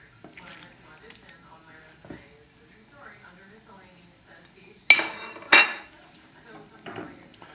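Fish is added to a pot of vegetable basil soup, with soft clinks of utensils and a couple of sharp splashy clatters midway, quiet and close, with speech nearby.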